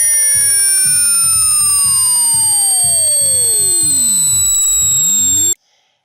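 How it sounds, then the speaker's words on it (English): Sound-test tones played through a speaker, steady pure tones sweeping downward in pitch with pulsing, buzzy overtones, loud and continuous before cutting off abruptly. "This sound test makes different frequencies."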